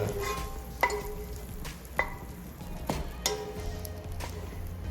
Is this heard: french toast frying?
yes